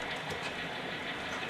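A model railroad grain train rolls along the track of a freelance layout, giving a steady, continuous rumble with faint clicking wheels throughout and no voices.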